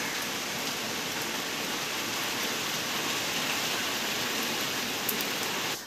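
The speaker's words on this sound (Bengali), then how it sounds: "বৃষ্টি শুরু হয়ে গেছে।" Rain pours steadily on surfaces around a house, a dense, even hiss at moderate volume with no voices, continuing without pause.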